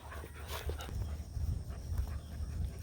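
Maremma guardian puppies whimper and yip in a chatty stream of short, high cries, close by over low outdoor rumble.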